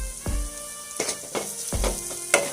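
Onions, green chillies and curry leaves sizzle and fry in hot oil with turmeric for a chickpea-style green gram curry, a steady close crackle with a few louder stirring scrapes and bursts, no talking.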